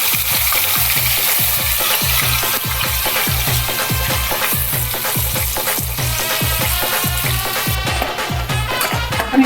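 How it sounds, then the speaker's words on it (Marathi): Onion, ginger, garlic and chili paste sizzles loudly in a pan, with a steady run of rhythmic stirring scrapes about every half second throughout, close and continuous with no talking. "आणि आपला कांदा आलं लसूण मिरची हे पेस्ट घालून घेऊया"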